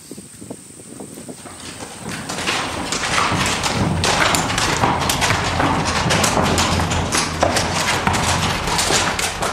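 Horse walking along a railway track through a tunnel, its hooves striking stone, iron and wood beside running water; rapid uneven hoof knocks build up and continue loud over a steady rushing background.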